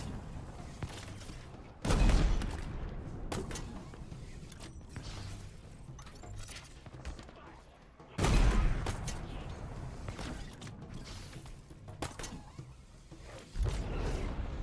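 Gunfire in a Halo game on Legendary difficulty arrives as a few heavy booming blasts spaced seconds apart, over a low mechanical rumble and faint game noise.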